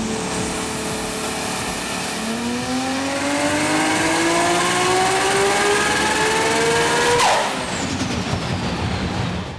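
Nissan GT-R with a Garrett G35-1050 single turbo, bell-mouth intake and about 35 psi of boost, pulls hard on a dyno. The loud engine note climbs steadily in pitch, then cuts off sharply with a brief whoosh near the end.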